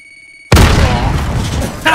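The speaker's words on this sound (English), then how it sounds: "I seen the grenade, just went," A grenade goes off in a battle royale video game, a sudden loud, close boom after half a second of quiet, followed by a rumbling roar that tails off.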